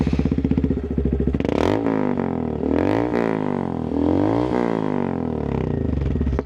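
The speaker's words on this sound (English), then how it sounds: "listen to my engine roar" A Honda Monkey 125 with Zoom and Yoshimura aftermarket exhausts revs up close, loud and throaty, its engine rising and falling through repeated blips with no talking over it.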